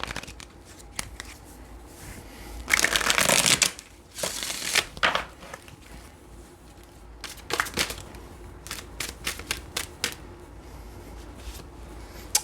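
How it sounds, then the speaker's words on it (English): Tarot cards are shuffled in a few quick riffling bursts, the longest and loudest near the start, followed by scattered short flicks and taps of the deck, close and crisp with no talking. "Okay, one more shuffle."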